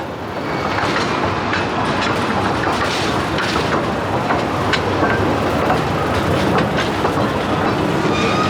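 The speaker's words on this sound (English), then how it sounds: "now we're on Stephen's favourite ride" An amusement park train ride at Blackpool Pleasure Beach rolls along steadily with a continuous rumble and rhythmic clickety-clack of wheels on track, close and loud throughout.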